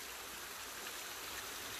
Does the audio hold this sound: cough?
no